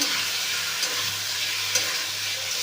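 Egg and potato stirred and fried in cooked-down masala for egg kosha, a steady close sizzle with faint scraping and a few brief clinks, no voices.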